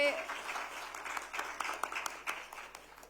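Audience clapping at a panel event on women in Gujarat politics, a short burst of scattered applause that rises and fades as a speaker thanks the guests.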